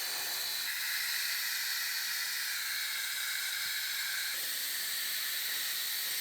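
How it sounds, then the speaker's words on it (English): Undercoating sprayed from a wand inside the quarter panel of a GMC Yukon truck, a continuous loud close hiss that holds steady throughout with no pauses or voices. "I was able to get the wand in there and coat it real good."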